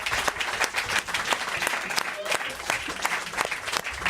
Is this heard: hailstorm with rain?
no